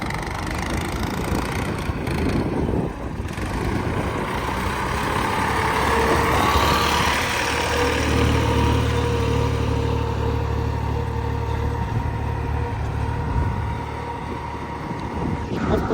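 A tractor engine idles with a steady low rumble, close and fairly loud. Its tone thickens in the middle as the engine works a little harder, then settles back to a level idle.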